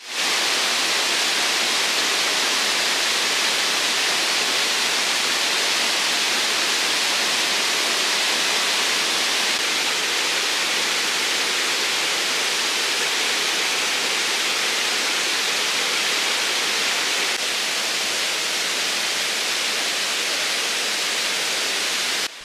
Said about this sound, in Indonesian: air terjun di sini terbentuk dari batuan-batuan besar yang menyangga aliran sehingga membentuk curug